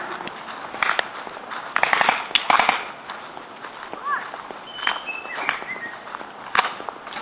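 Airsoft gun fired rapidly during an outdoor airsoft war, heard as scattered sharp cracks and bursts at moderate distance, mixed with shouting players and rustling movement.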